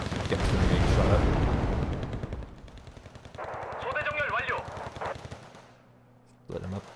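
Gunfire in a strategy video game as a unit is shot up, opening with heavy booming bursts, then a rapid rattling machine-gun stream, loud and continuous, with a voice talking over part of it.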